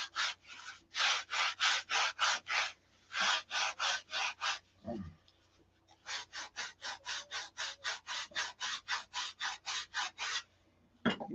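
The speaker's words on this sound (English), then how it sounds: "These, when you sand the flaps like this," Plywood flaps for a model plane are sanded with steady back-and-forth strokes, a close rhythmic raspy scratching of about two dozen even passes with one short pause partway through and no talk.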